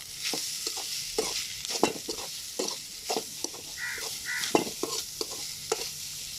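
Grated coconut sautéing in a pan, with a steady sizzle and repeated scraping stirs and clinks of a spoon, close and moderately loud, alone.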